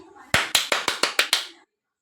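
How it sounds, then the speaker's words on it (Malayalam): Seven sharp hand claps in a quick, steady rhythm, close and clear, acclaim the mothers at an Onam festival contest, then stop abruptly into silence. "അമ്മമാർക്ക് ഒരു വൻ കയ്യടി"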